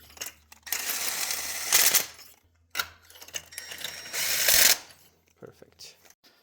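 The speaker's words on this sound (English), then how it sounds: "So I torqued the plugs down." Tightening NGK Iridium spark plugs with a torque wrench on a 1996 Toyota T100 engine during a tune-up gives close ratcheting and clicking bursts, two long stretches of rapid metallic clatter with brief knocks between them.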